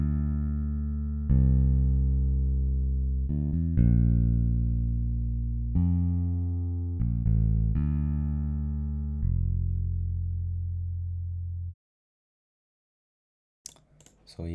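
Free Ample Bass P2 Lite bass guitar plugin with highs cut by a Pro Q3 EQ, playing a slow sequence of deep, round sustained notes that fade out, followed by brief faint noises at the end.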